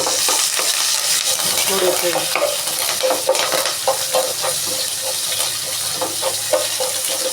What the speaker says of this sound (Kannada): ಕರಿಬೇವಿನ ಸೊಪ್ಪು, ಈರುಳ್ಳಿ, ಒಣಗಿದ ಮೆಣಸಿನ್ಕಾಯಿ ಎಲ್ಲನೂ ಇವಾಗ ಸೊಪ್ಪಿಗೆ ಒಗ್ಗರಣೆ ಹಾಕೋಣ